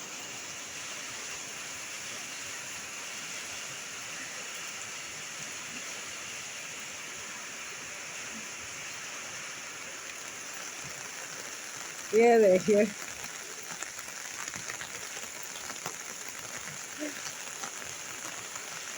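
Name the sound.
heavy rain falling, filmed from a rooftop in Dehradun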